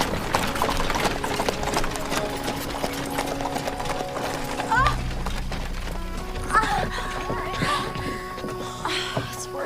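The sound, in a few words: horse galloping, hooves clip-clopping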